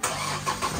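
A Chevrolet Trailblazer engine cranks and catches in a brief, close burst, settling straight into a running hum with no voices.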